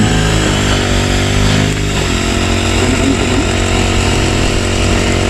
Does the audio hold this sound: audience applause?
no